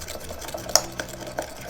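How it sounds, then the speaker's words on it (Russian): A spoon stirs honey, olive oil and soy sauce in a small bowl, giving quick light clinks and soft scraping against the sides. "Все это хорошо перемешиваем."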